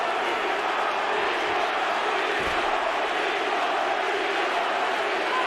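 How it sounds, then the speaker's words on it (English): Arena crowd at a UFC 51 mixed martial arts bout between Vitor Belfort and Tito Ortiz, a steady, dense roar of many voices shouting and screaming with no breaks, distant and sustained throughout. "I don't know if they're screaming Vitor or Tito."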